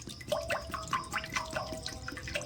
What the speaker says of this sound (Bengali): এইবারে আমি কড়ার মধ্যে দিয়ে দিচ্ছি বেশ কিছুটা জল।